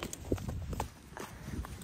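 A horse's hooves clip-clop at a walk in a stable, a few close, irregular knocks over quiet background noise.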